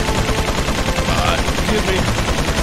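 Rapid, close TMP machine pistol fire in Resident Evil 4 rattles in a dense, continuous burst, loud and unbroken for the whole stretch.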